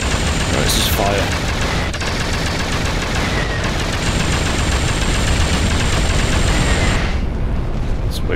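Sustained machine gun fire in the Duke Nukem Forever video game, a loud, continuous rapid rattle lasting the whole stretch, layered with game effects and a high whine near the middle.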